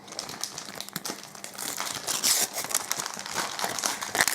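A Finding Nemo trading card booster pack being unwrapped up close, with continuous crinkling and crackling of the foil wrapper and sharper tearing bursts toward the end.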